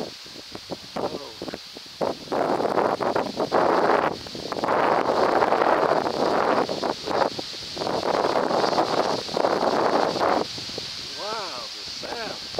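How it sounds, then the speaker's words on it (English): Gusty wind blows through autumn leaves in Nova Scotia, a steady rushing roar with a rustling swell that rises and falls. Someone talks over it in bursts. "they flap back and forth in the wind. Hear the wind."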